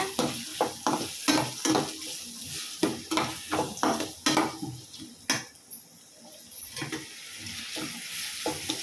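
Carrots and beans fry in a pan and are stirred with a spatula: rapid scraping strokes over a steady sizzle, close and fairly loud, slowing toward the end, with no voices.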